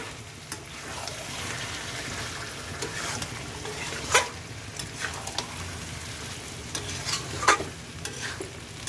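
Chicken for posto chicken sautéed in just a little oil, a steady close sizzle broken by repeated scraping and clanking stirs of the spatula against the pan, with a few sharper louder strokes.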